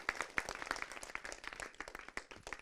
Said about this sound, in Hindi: एक बार तालियों से अपने आप का स्वागत कर दीजिए